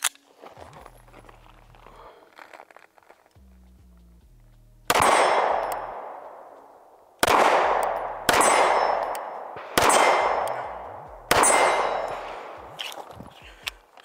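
Five loud, sharp rifle shots from an LWRCI IC DI at an outdoor range, fired singly at uneven intervals with ringing decays, after a stretch of quieter handling noises and clicks.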